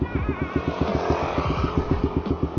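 A small manual-clutch motorcycle engine, ridden by a learner, putters close by with a rapid, uneven chugging pulse and a light throttle blip throughout.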